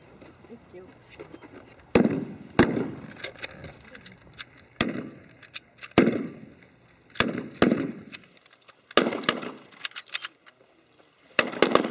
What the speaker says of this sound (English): I'm going to demonstrate to you Japanese rifle squad and the firing of Japanese infantry rifles.